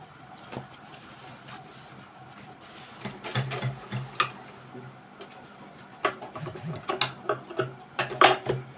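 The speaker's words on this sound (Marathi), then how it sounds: "तर आता मी बाया करते स्टिच" Sewing machine stitching a blouse sleeve, a light, quiet mechanical ticking and whirring that grows busier toward the end, close by, with no talking.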